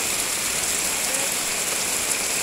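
Heavy rain pours down in Samarinda, a dense, steady hiss of drops on surfaces mixed with rushing ditch water, continuous and close.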